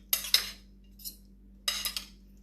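Chicken bihon soup stirred with a metal spoon, producing a few sharp clinks and scrapes against the pot in two short bursts, close but fairly soft against a low steady hum.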